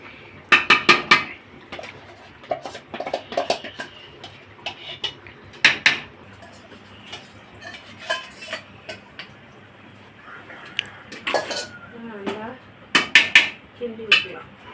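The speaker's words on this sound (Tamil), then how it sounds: "ஆமாம், இப்போ நம்ம இந்த மசாலா போட்டுப்போம்," Masala being stirred into boiling meat curry in a pot, with repeated sharp metallic clinks and scrapes of a spoon against the pot over a low simmering background, near and fairly loud, plus brief bits of voice.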